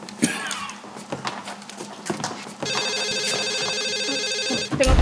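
A telephone rings loud and steady in an indoor setting for the last half, a sustained electronic ring after a stretch of quiet shuffling.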